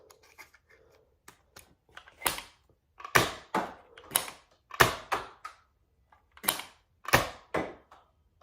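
Nerf Elite 2.0 Trio SD-3 blaster firing standard Nerf Elite darts, a series of sharp, loud snapping shots with mechanical clicks between them, spaced about a second apart, with no talking.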